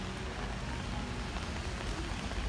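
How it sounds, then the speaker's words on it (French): Steady rain falls outdoors at a public square where Christmas trees are set out, a continuous dense hiss of drops on surfaces with no pauses or voices. "Bon, il pleut, ils ont fermé les choses."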